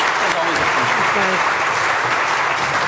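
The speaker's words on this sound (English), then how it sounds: "Mayor Mathieson, Councillor Harder, and Byron, could we please have a round of applause for our panelists?" Audience applause for panelists at a Canadian smart communities conference, a dense steady clapping that fills the whole moment at close range, with voices mixed in beneath it.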